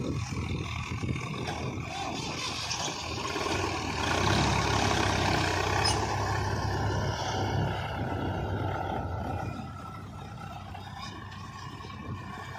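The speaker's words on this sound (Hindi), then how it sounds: "तो यहाँ ट्रैक्टर चल रही है" A Swaraj tractor engine runs at a brick kiln site, levelling ground with a steady, loud diesel roar that swells midway and eases slightly near the end, with no voices.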